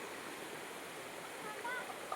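Water pours down a cliff at a waterfall in the Konkan countryside, heard as a faint, steady distant rush with no breaks.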